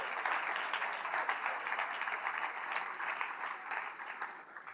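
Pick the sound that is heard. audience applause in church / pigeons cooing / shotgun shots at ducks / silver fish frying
audience applause in church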